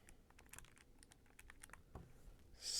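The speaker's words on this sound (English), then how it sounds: "Let's go ahead and type that in on our calculator here." Calculator keys are pressed in a quick irregular run of light clicks for a few seconds, close and faint, ending in a brief burst of hiss.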